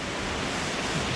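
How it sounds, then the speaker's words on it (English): A waterfall on Vancouver Island gives off a steady, broad rush of falling water, continuous and fairly loud, with no voices. "looks like there's going to be a nice cascade down there"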